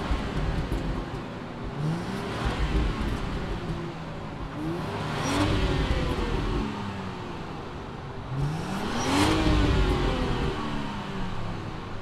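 The turbocharged straight-six engine of a 2019 Range Rover Sport HST P400 fires up and revs repeatedly, rising and falling in pitch, loud and close with no talking.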